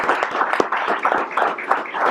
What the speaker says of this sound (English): let's give a round of applause to everyone who is involved with that partnership